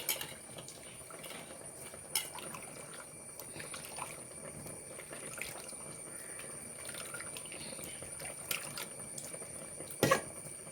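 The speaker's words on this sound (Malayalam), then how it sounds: "ഇനി പുളി ഒഴിക്കാൻ പോവാണേ" Tamarind water pours into a pot of sambar in a faint, steady trickle, with a couple of soft clinks and a louder knock near the end.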